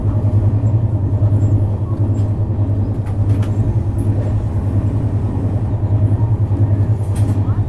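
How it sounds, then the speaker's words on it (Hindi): The IRCTC Tejas Express 82501 runs at speed past Anand Vihar, a loud steady rumble from inside the train with faint rhythmic clatter throughout. "इतनी कुछ रफ्तार में अपनी तेजस एक्सप्रेस स्किप कर रही है आनंद विहार"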